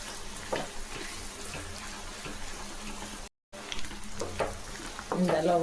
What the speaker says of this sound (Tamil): இந்த அளவு வெங்காயம் வதங்கினா போதுங்க.